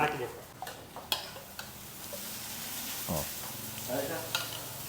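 A butter masala dosa fries on a hot griddle at Puttappa hotel in Chamarajanagar, with a constant loud sizzle, scattered clinks and scrapes of utensils and a brief scraping stroke midway.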